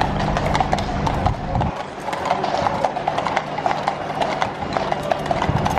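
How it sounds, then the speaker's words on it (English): A horse walks along with steady, rhythmic hoof clip-clops, close and clear, with a brief whinny-like sound early on and faint background noise. "here we've got a horse"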